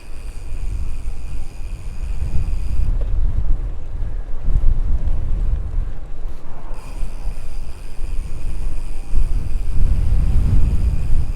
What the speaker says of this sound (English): just as the wind is picking up